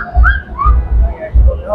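Clear whistled tones of Silbo Gomero, the whistled language of La Gomera, glide up and down in short phrases over a low rumbling background.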